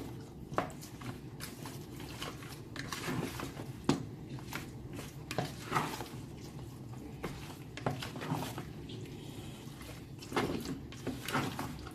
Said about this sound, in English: I am going to give this a stir.